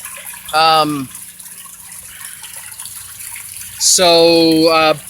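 Water pours steadily into an overflowing aquaponics filter, giving a constant low splashing hiss throughout, broken by two short, loud tonal bursts.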